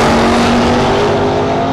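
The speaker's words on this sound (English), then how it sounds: "Good drag race." Super gas drag racing cars, including a Vega, run at a 2010 National Open Series event at Portland International Raceway, a loud sustained engine roar filling the whole stretch with no voices.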